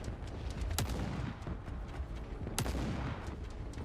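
Gunfire from the video game The Forever Winter, with two sharp shots about two seconds apart over a low, steady background rumble, no talking.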